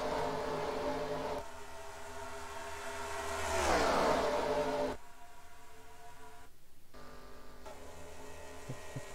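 Race cars roar past on a circuit, one engine note rising and sweeping down in a clear pass-by near the middle, with steady engine drone before and after.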